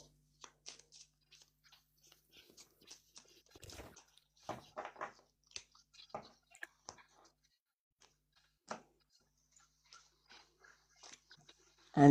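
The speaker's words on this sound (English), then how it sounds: "So let's just shuffle these cards." Tarot-style oracle cards shuffled by hand during a live card reading, giving a string of soft, irregular riffling clicks and brushes close to the mic, with a louder bump at the very end.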